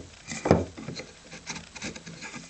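A marking line is scribed across the inside face of a timber board for a dovetail joint, heard as close, short scraping strokes of steel against wood with brief pauses and no voices.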